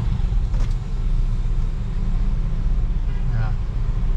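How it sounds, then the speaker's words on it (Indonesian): Outside traffic noise heard from inside a Toyota Innova Zenix gasoline car forms a constant low roadway rumble with a steady broadband hiss, with a brief faint sound partway through. "Wah, suara luar begitu berisik."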